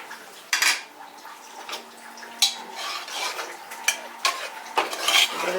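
A spoon stirs cooked palak dal in a metal pot, with several distinct scraping clinks and knocks against the pot at an uneven pace, close and fairly quiet.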